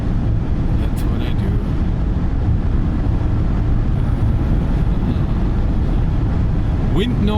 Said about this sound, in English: Wind noise above 140. It's present as in other cars.